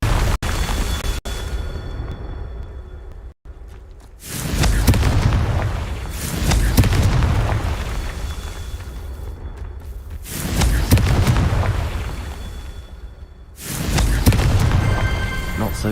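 A Confringo blasting curse from a Harry Potter game: four heavy, booming blasts spaced a few seconds apart over a steady loud background, each with a deep rumbling body and a slow fade.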